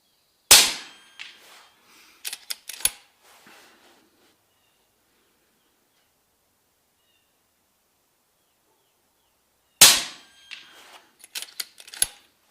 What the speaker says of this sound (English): We'll do a couple of 8-shot groups on that center target down there.